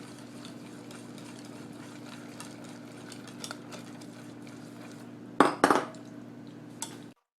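Coconut and pecans stirred into hot pecan coconut frosting in a pot just pulled off the burner, a quiet background hum with a couple of sharp utensil clinks against the pot near the end.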